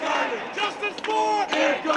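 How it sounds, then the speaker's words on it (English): An angry protest crowd chanting in the streets of New York after a grand jury decision over Eric Garner's death, loud rhythmic massed voices shouting in unison, close and continuous throughout. "Angry crowds tonight in the streets of New York, protesting yet another controversial grand jury decision."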